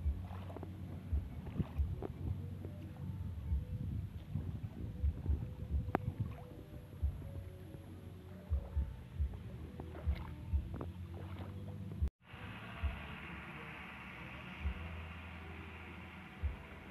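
Small fishing boat out on a flooded reservoir during a stormy period, a low engine or hull rumble with water slaps and gurgles, wind buffeting the microphone, faint and steady before a brief cut and a slightly brighter hiss.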